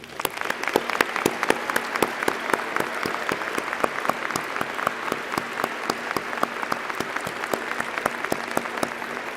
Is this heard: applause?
yes